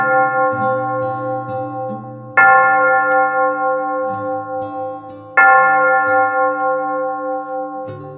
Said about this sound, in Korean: 장엄하고 깊은 종소리가 동해를 가로질러 울려왔습니다.